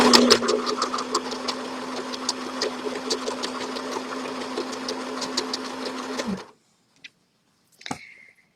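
Sewing machine back-stitching over squares of tie-dye fabric for a shopping bag, a loud, even mechanical whirr running for about six seconds, then abruptly stopping, followed by a couple of small clicks and a brief rattle.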